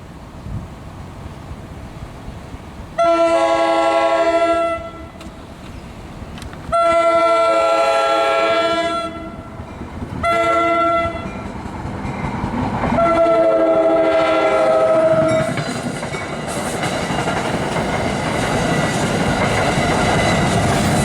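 A New Jersey Transit train on the North Jersey Coast Line rumbles past with a loud horn sounding in several long blasts, wheels clattering underneath, the noise swelling toward the end.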